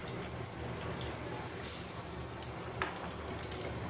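A curry of elephant foot yam and taro with prawns simmers in a pan, giving a soft, continuous bubbling sizzle with a few small pops, quiet and close.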